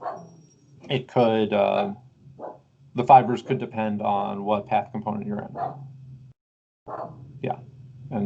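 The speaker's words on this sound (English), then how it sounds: "I guess everyone can hear my dog barking at the garbage truck" A pet dog barks at a garbage truck, its barks sounding a few times in the background beneath a man's close, steady lecturing voice.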